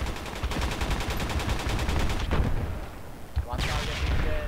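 Rapid machine-gun fire and heavy booming blasts from a grenade sound in a combat video game, the gunfire rattling in quick bursts and the explosions thumping loudly, with players talking over it.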